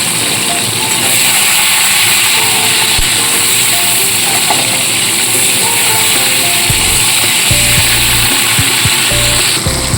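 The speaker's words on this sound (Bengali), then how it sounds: "এবার এই তেলের মধ্যে আমি একটা ছোট টমেটো কেটে রেখেছি, সেটা ফার্স্টে দিয়ে দেবো।" Chopped tomato and slit green chillies sizzle in hot oil with salt, a steady loud hiss filling the whole stretch, with a few low knocks and scrapes near the end.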